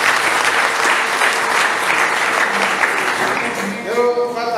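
Loud, dense applause from an audience fills the space, a continuous rush of many hands clapping close by, thinning slightly near the end as a voice begins to come through.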